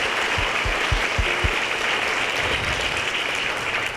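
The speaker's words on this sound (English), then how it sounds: "give a round of applause to all of those who provided you with great instruction" A graduation audience at an adult education ceremony claps for teachers and instructors, a steady dense wash of applause throughout with a few louder individual claps near the start.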